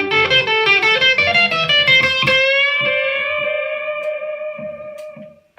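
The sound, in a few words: electric guitar solo with delay pedal echoes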